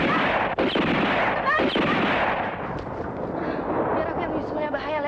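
Two sharp gunshots crack out early in a busy, noisy action scene from a 1983 Indonesian film, the reports loud and close over a dense wash of background sound.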